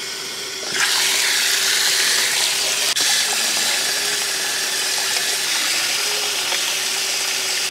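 Water poured steadily into a succulent plant pot holding soil and a little soil wetter, a continuous close splashing and trickling that starts abruptly and runs unbroken to the end.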